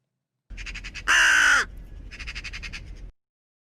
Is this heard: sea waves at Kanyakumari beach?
no